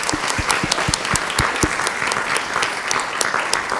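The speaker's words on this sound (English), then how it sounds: "Let's give them one more round of applause, please." Attendees at a school board regular meeting give a group of high school students a round of applause, a full, continuous burst of many hands clapping close and loud, with a few sharper claps standing out.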